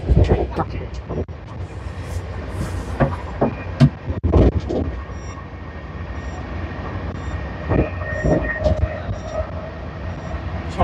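The Howrah–New Delhi Rajdhani Express 12301 runs through Bardhaman Junction without halting, giving a steady low rumble with scattered clanks and rattles from the rails, heard from on board at moderate loudness.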